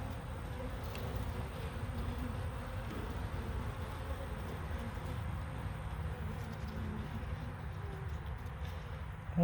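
Honeybees in an open top-bar hive drone in a continuous, dense buzz, close and steady throughout with no one speaking.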